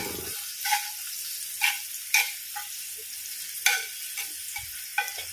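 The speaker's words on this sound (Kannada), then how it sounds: "ಈಗ ಈ ಈರುಳ್ಳಿ ಫ್ರೈ ಆಗಬಾರ್ದು ಇದರಲ್ಲಿ ಬೇಯಬೇಕು" Onions cook gently in a pan over a low gas flame, a soft steady sizzle broken by a handful of sharp scraping stirs from a spatula at irregular intervals.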